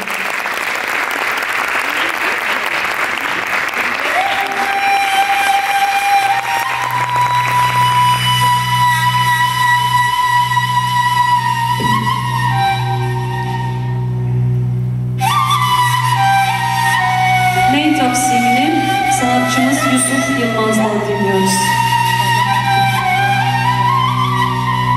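An audience at a Turkish classical music concert breaks into a dense wash of clapping that dies away as instruments begin playing sustained tones.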